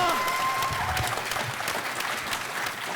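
At a PAX AUS cosplay panel, the audience breaks into sustained applause that fills the room from start to finish, with a few voices mixed into the dense clapping.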